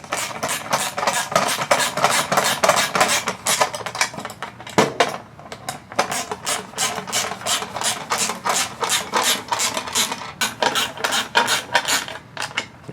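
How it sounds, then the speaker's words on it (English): A 10mm socket wrench tightening screws on a 2022-2026 Cadillac CT4-V Blackwing, rapid rhythmic ratcheting clicks in close bursts, pausing briefly midway before resuming at a steady pace. "take your 10mm socket or wrench, if you have just a wrench, Phillips screwdriver, and just tighten them up"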